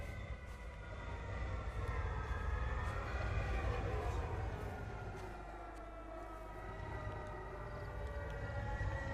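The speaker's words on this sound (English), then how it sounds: "there's that siren going off in the background" A wailing civil-defence-style siren from the game Everybody's Gone to the Rapture, rising and falling steadily and continuously in the background over a low ambient rumble, filling the whole stretch.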